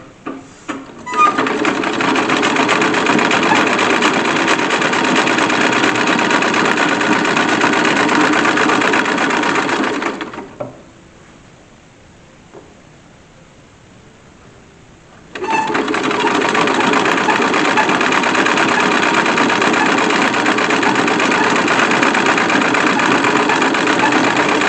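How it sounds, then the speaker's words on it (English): A sewing machine stitches a facing onto a wedding dress skirt, whirring steadily and close for about ten seconds, stopping briefly, then running again just as loud. "I'm sewing on a little facing like we talked about"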